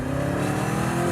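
BMW M3 with a G-Power tuned 750 hp engine, traction control off, revving hard with a steady loud engine roar and no talk.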